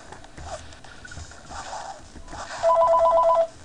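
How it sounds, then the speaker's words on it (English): A phone rings briefly near the end, a steady warbling electronic trill that cuts through faint background noise, with no one speaking. "There's my phone."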